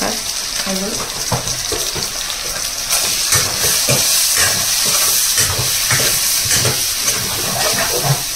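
Spices sizzle in hot oil for a mutton curry, a dense, continuous frying hiss with small crackles and pops that swells slightly partway through.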